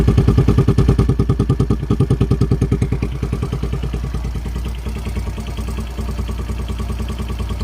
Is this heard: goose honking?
no